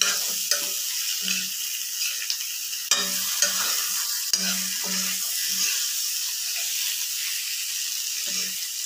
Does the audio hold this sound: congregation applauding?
no